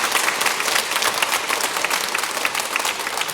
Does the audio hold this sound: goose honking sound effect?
no